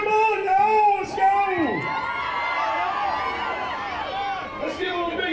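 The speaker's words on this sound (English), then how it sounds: "Come on, let's cheer them on." A crowd whoops and yells encouragement at a strawberry eating contest at the Ponchatoula Strawberry Festival, with overlapping shouts and rising cheers close by, mixed with loud talk throughout.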